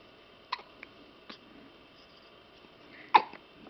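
A boy hiccups several times, a few small catches followed by one loud hiccup near the end, close and alone with no talking over them.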